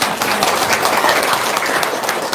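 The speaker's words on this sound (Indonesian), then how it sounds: "Tepuk tangan dong." Audience applause fills the room with a steady, dense wash of clapping from many hands, fairly loud and continuous throughout with no voices over it.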